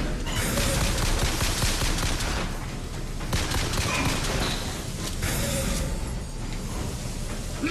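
Gunfire in BioShock Infinite, with rapid bursts of shots and loud cracks over several seconds and brief pauses between the volleys.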